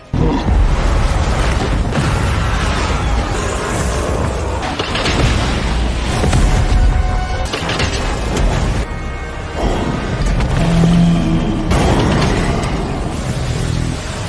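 Loud booming blasts and crashing impacts follow one another through a dense, continuous roar of cinematic action noise.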